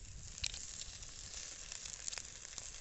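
Thoothuvalai leaves and ground masala sautéing in a pan give off a soft, steady sizzle, fairly quiet and continuous, with a few faint crackles and pops rising above it.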